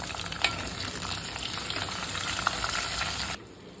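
Ginger and green chillies sauté in a hot pan, a steady close sizzle with a couple of brief stirring clinks, cutting off abruptly near the end.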